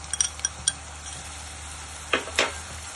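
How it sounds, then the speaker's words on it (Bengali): Garlic and ginger paste being stirred and sautéed in a pan for a Bengali rohu fish head muri ghonto: a steady soft sizzle with sharp metallic clinks and scrapes of a spoon against the pan, close and clear. "দিয়ে ভালো করে কষাতে হবে যেন গন্ধটা না থাকে। ভালো করে নেড়ে নিতে হবে"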